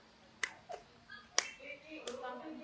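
During a therapy exercise, a woman pats her own body, producing three or four sharp, close slaps spaced unevenly, with soft voices in the background.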